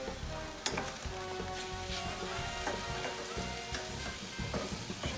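Chipotle chicken sizzles in a hot pan while being stirred, a close, steady frying hiss broken by scrapes and clinks of the utensil.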